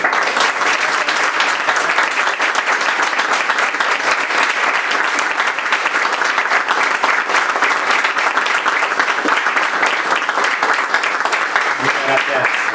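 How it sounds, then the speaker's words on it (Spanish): An audience at a book presentation on warfare in the Dark Ages applauds the author Pepe, a loud, sustained round of clapping from many people that holds steady throughout, with a few low knocks near the end. "vamos a dar un aplauso a Pepe antes, ¿no?"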